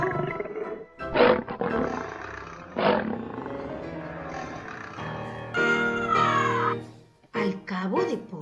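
A lion's roar is voiced in a Spanish-language children's story about the carnival of the animals, loud bursts alternating with animated talk, likely a narrator's voice imitating the big cat rather than a real animal.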